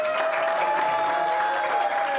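A studio audience at a televised lottery draw show applauds and cheers for a contestant, dense steady clapping filling the whole moment with a faint crowd murmur.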